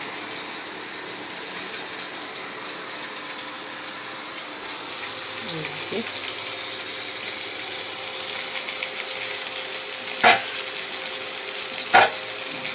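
Steady, loud sizzling of fish frying in a pan throughout, with a couple of sharp utensil clinks toward the end.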